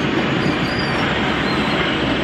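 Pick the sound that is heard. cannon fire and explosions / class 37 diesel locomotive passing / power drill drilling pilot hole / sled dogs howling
class 37 diesel locomotive passing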